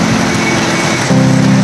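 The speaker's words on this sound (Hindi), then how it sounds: "बहुत तेज बारिश, सैलाब आ चुका है।" Heavy rain pours in Abbottabad with flooding, a dense, loud, continuous hiss and roar that swells slightly near the end.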